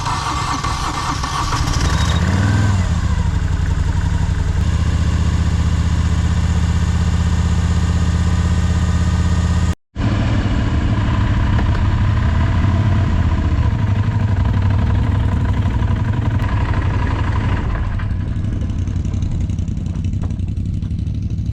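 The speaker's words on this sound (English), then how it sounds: "But we get the bike started, which is always a mighty fine relief" A motorcycle engine fires up and settles into a loud, steady close idle in rainy riding conditions, with a brief dropout midway before it keeps running.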